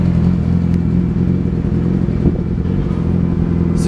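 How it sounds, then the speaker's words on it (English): A motorcycle engine idles steadily close by, a continuous low, throbbing mechanical rumble with faint clatter and no breaks from start to finish. "And that's the motorcycle running."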